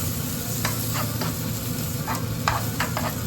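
Bacon sizzles and fries steadily in a pan for carbonara, a loud, even crackle close by, broken by a few sharp scrapes of stirring and no talk.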